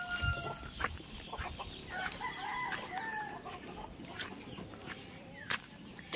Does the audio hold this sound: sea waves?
no